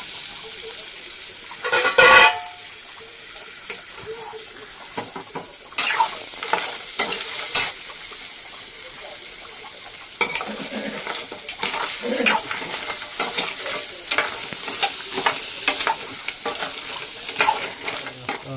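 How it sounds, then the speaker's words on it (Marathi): Crab sizzles as it fries in masala in a pan, with steady loud frying and repeated scrapes and clinks of a utensil stirring against the metal. "थोडासा फ्राय बनवून घ्या मसाला आणि याच्यामध्येच आपण टाकूया खेकडा"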